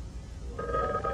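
A telephone bell starts ringing about halfway through, a steady tonal trill that holds to the end over low background rumble, fairly close and loud.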